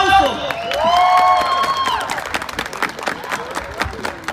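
Crowd at a rodeo-style tournament in Kilgore clapping and cheering after a team is announced, with shouts and a whistle at first, fading into scattered claps and voices.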